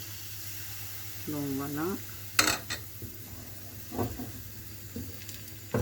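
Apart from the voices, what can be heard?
crêpe batter poured into a hot pan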